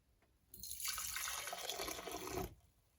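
Milk is poured into a container while making yogurt. A steady splashing pour lasts about two seconds, close and quiet, with no voices.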